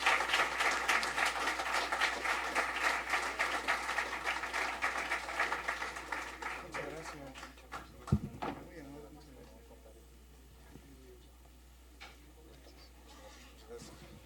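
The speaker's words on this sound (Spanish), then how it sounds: "Y ahora sí les damos un fuerte aplauso," An audience at a book presentation on criminology giving a loud round of applause, dense clapping that gradually thins and fades over several seconds, leaving a quiet room with faint murmuring and a brief thump.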